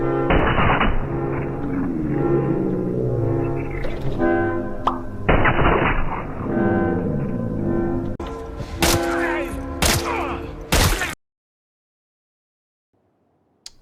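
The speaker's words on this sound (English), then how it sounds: "Watch what happens if you try to leg shot and then headshot." Gunfire in the video game No Return hits a target first in the leg and then in the head, giving a few sharp shots and bright game sound effects over loud, continuous tonal game audio that cuts out near the end.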